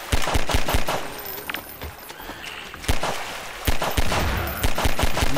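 Rapid automatic gunfire from a weapon in the video game Garry's Mod, loud and close, firing in dense repeated bursts with brief pauses between volleys.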